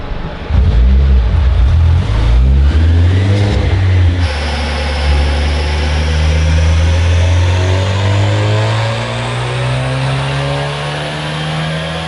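A 10th-generation Honda Civic FC3 strapped to a dyno for a baseline run with the stock intake manifold, its engine revving loudly with rising harmonic tones, then easing back and climbing again in a long steady pull, with no talk.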